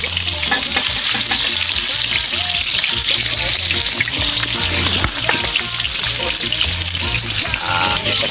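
Garlic and onion fry in hot cooking oil in a pan, giving a loud, steady sizzle and hiss throughout with occasional stirring clatter and no voices.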